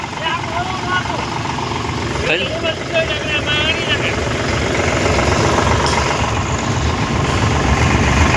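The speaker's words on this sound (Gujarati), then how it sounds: "થોડોક ટ્રેક્ટરનો અવાજ છે પણ કાંઈ તમે ઇગ્નોર કરજો" A tractor engine drones steadily throughout at close range, a continuous low rumble with mechanical clatter, while a person talks over it.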